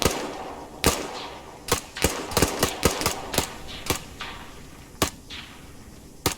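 Rifle and machine gun fire in ARMA 3 during fireteam training: a dozen or so sharp, separate shots crack out at irregular intervals, some in quick pairs and short bursts, fairly loud against a quiet background.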